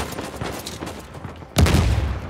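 Gunfire rattles in the video game Uncharted 4, with a scattered volley of shots building into a louder, denser burst near the end.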